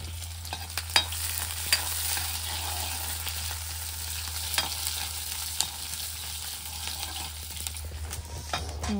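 Fenugreek seeds and onion frying in a pan, a continuous bright sizzle with repeated scrapes and taps of stirring, close and fairly quiet, with a low steady hum underneath.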